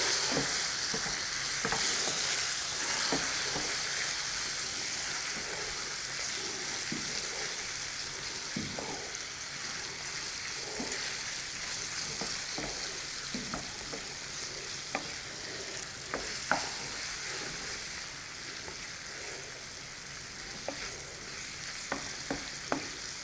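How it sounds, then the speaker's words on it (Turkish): Thin slices of lamb liver fry in a pan with a broad, hissing sizzle that holds steady throughout. Light scrapes and taps from stirring run underneath, with a few sharper knocks near the end, and no one talks. "ciğerimiz kızardı"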